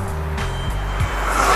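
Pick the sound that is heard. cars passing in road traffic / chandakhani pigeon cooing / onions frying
cars passing in road traffic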